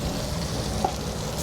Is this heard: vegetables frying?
yes